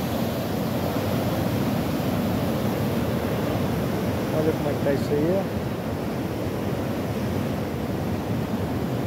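Sea waves breaking and churning by the Atafona ruins, with muddy water from the flooded Paraíba do Sul river, form a steady loud roar with wind noise on the microphone while someone speaks briefly over it.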